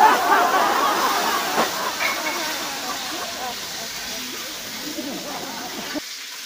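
Fish frying in hot oil, a steady crackling hiss with bursts of splatter, close and fairly loud, fading slightly before cutting off near the end.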